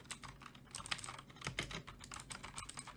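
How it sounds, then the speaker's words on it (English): A Red Dragon mechanical keyboard is typed on rapidly, its very clicky switches producing dense, crisp clacks at close range with no voices. "very clicky, as you can hear. It's by Red Dragon, of course."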